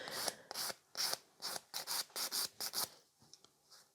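A hand nail file rasps along the free edge of an acrylic nail in a run of short, evenly spaced strokes, close and crisp, then slows into a few lighter, fainter passes at the end.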